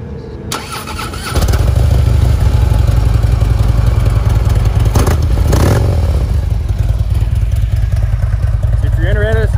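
A 2014 Harley-Davidson Ultra Limited motorcycle engine starts up after a brief crank, then settles into a loud, steady, close idle with a deep exhaust rumble for the rest of the stretch.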